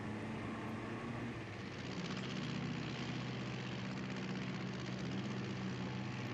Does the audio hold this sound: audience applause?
no